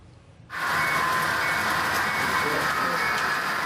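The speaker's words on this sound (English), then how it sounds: "The sight and sounds of trains moving down the track are met with delight." HO scale model trains running along a layout track, a steady close rolling whir with a bright mechanical hum that starts abruptly and holds level to the end.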